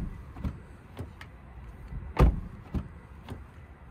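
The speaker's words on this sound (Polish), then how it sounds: "Posłuchajmy dźwięku zamykania drzwi." A door of a 2023 Toyota Yaris 1.5 Hybrid GR Sport closes with one solid, hollow thump partway through, surrounded by several softer knocks and clicks, heard close with no talking.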